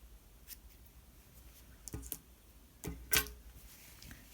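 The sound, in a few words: scissors cutting yarn tail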